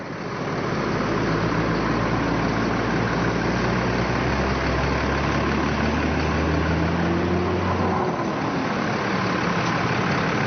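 An NPM intercity bus idles at a roadside restaurant stop on Gunung Medan at night after rain, its engine giving a steady close rumble throughout with a low drone and a brief pitch rise near the end.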